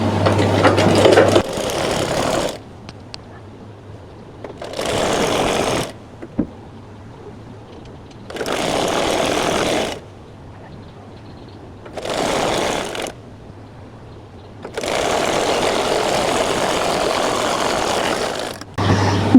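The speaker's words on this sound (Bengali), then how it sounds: "এই কোণাটা ভাঁজ দিয়ে এখান থেকে সেলাই শুরু করবেন।" Sewing machine stitching a folded corner of a pillow cover, running in several distinct bursts of steady whirring separated by short pauses, loud and close with no talking.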